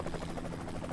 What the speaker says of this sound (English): There's the distant sound of blades coming closer.